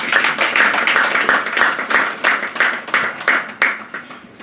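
Steady rhythmic clapping from several people, a quick run of sharp claps lasting a few seconds, fairly loud and close.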